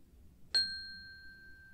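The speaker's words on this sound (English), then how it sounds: "You will hear the sound of a chime" A mindfulness chime struck once, its bright ringing tone starting sharply and then fading slowly in a quiet room.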